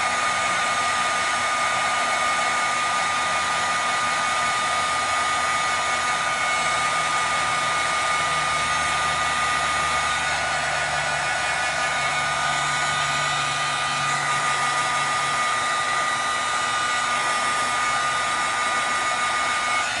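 A handheld heat tool blows continuously for twenty seconds while drying a gold-green pigment craft piece stuck to contact tape, a steady close whirring hum with a constant high whine.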